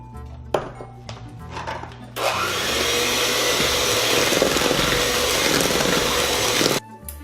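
An electric mixer beating eggs and sugar into a foam, a loud steady whirring drone that starts after a few light clicks and runs for several seconds before cutting off abruptly.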